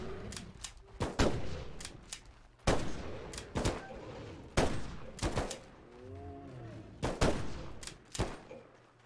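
Repeated gunshots ring out in a video game while the player sprints during a hunt for a large slime creature, sharp cracks in irregular bursts with short gaps between them, fairly close and loud.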